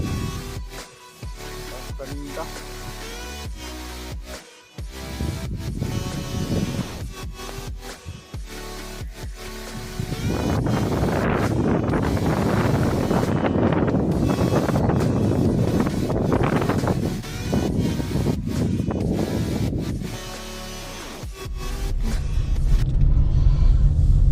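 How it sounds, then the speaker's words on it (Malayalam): Wind gusting around a parked Tata Nexon EV in misty, rainy deep forest on the Gavi trip, a steady buffeting roar that swells louder midway and again near the end, with no talk. "കാറ്റുണ്ട്, മഴയുണ്ട്, കോടയുണ്ട്."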